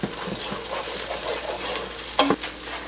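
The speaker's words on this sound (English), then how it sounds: "I'm going to stir that up." Chorizo with onion powder and garlic powder is stirred in a pot for a cheap Walmart-ingredient dinner, with a soft sizzle, scraping strokes and a sharper clank near the end.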